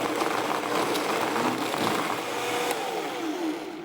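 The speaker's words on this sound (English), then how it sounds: "with a high-speed blender like this, you'll be able to get it pretty smooth" A high-speed blender roars steadily as it purees guajillo chiles, a loud continuous whirring motor and churning liquid with no pauses or talking.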